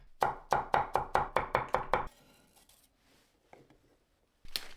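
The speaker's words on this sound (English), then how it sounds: "Chop 6 cloves of garlic." Knife chopping garlic cloves on a cutting board for Thai pad see ew, about nine crisp, evenly spaced strokes. A brief pause follows, then faint handling noises and one sharp knock at the end.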